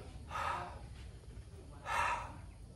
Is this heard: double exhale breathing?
yes